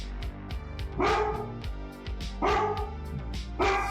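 A dog barks close by, three loud, spaced bursts of deep barking over a steady low background hum.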